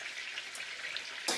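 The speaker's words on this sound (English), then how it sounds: "you've got a frying pan large enough to fit 4 of the rolled up chicken" Rolled-up chicken cordon bleu frying in a large frying pan gives a steady, bright sizzle with light crackles and one sharper spatter near the end; no one speaks.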